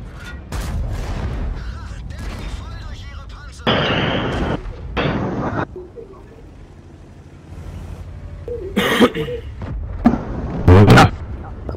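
Heavy tank cannon shots and explosions in the World of Tanks team battle game with the VK 100.01 P, several loud booming bursts spread across the stretch amid ongoing battle noise, with people talking over it.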